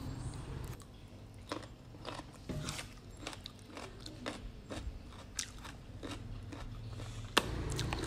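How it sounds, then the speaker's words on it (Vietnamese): Close, crisp crunching bites into sweet-sour pickled ambarella, a series of sharp snappy crunches at an irregular chewing rhythm, fairly quiet and with no talking. "Ăn mà nghe gộp gộp luôn á."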